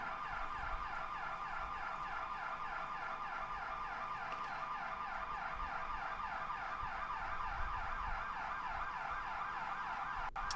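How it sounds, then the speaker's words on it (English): Emergency vehicle sirens in the EmergeNYC video game, a steady repeating wail layered with alarm-like tones, continuous and fairly faint throughout with no talking. "hearing a lot of sirens."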